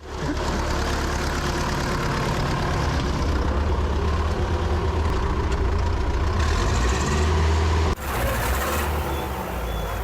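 A T-40 tractor engine revs hard as the clutch is dropped in fourth gear, a loud, continuous, rumbling roar close by with a brief break near the end before the engine note resumes.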